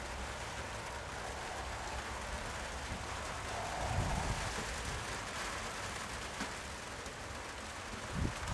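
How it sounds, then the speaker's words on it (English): Rain falls on an outdoor croquet lawn during a golf croquet national final, a steady broadband hiss with wind buffeting and occasional soft thumps, continuous and fairly diffuse with no speech. "Rain started and looks like a raincoat is needed."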